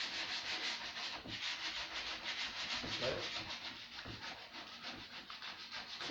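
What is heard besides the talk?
hand sanding an old timber table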